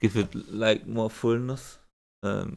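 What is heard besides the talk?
No distinct noise like a dog, phone or traffic.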